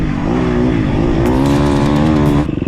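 Motorcycle engine revving hard, loud and close, holding a high steady pitch for a couple of seconds before cutting back abruptly to a rough idle.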